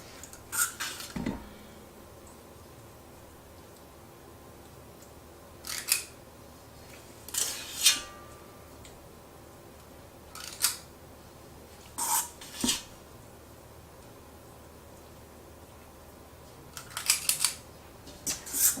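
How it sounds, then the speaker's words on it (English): Metal baking pans clank and scrape in an oven in scattered bursts as they are moved between racks, against a quiet background, with pauses of near silence between each handling. "I have to move the pans between the racks in the oven and from front to back"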